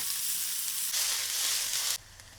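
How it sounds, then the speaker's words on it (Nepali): Crushed garlic and ginger fry in hot ghee with onion and spices, a loud, close, hissing sizzle that surges around the middle before abruptly dropping to a softer crackle. "हामी केही क्लोभ लसुन र अदुवालाई लिन्छौँ र यसलाई पनि कुटेर एकछिनसम्म फ्राई गर्छौँ"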